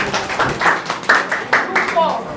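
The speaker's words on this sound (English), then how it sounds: "Please clap for them, please." Scattered, uneven clapping from a small audience at a tech meetup for a group that just presented, a handful of close individual claps rising and falling in bursts.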